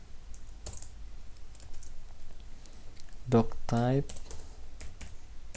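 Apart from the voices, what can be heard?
typing HTML on a computer keyboard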